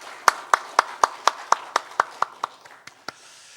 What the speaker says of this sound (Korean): 하나님께 감사의 박수 올리겠습니다